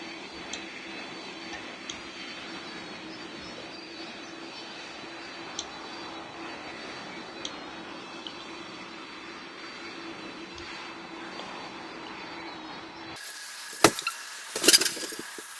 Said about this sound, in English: now time to start up the engines and begin our flight